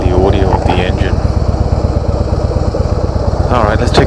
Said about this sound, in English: I hope you're getting the audio of the engine.